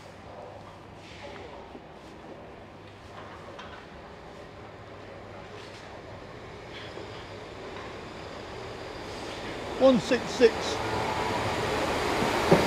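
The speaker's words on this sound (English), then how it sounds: "Train's coming." A train rumbles closer, its noise building steadily with a few sharp metallic squeals near the end, while a person talks briefly over it.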